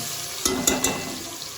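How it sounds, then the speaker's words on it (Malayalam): Crushed ginger and small shallots are stirred in a hot frying pan. A steady sizzle carries a few quick scraping strokes near the middle, close and fairly loud. "ചതച്ച് വെച്ച ഇഞ്ചി പിന്നെന്താ ഉള്ളിലെ ചെറിയ ഉള്ളി നന്നായിട്ട് ഇളക്കി കൊടുക്കാം"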